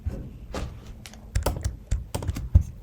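Typing on a computer keyboard while entering a Java program input, irregular clicks and thunking keystrokes, some in quick clusters, close and fairly quiet, with no talking.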